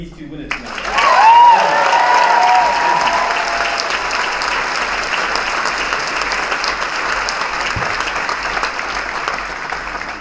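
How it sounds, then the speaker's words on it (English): An audience at a legal aid lawyer awards ceremony breaks into loud, sustained applause, swelling quickly and then holding at a steady level of clapping, while a voice speaks briefly over the start. "Can you get another round of applause for these two winners tonight?"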